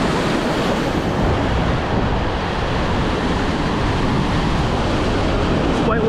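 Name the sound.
ocean waves breaking into white water surf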